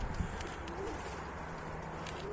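Faint, soft cooing from a Mardin-breed pigeon on a rooftop, low and breathy, set against quiet outdoor background noise.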